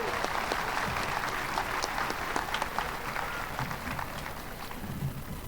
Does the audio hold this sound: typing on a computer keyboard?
no